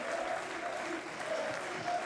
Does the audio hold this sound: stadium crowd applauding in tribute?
yes